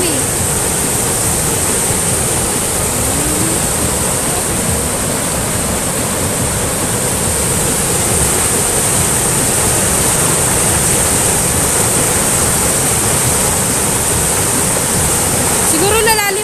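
Rushing river water in Cividale del Friuli roars continuously and loudly, a dense unbroken wash of sound close by.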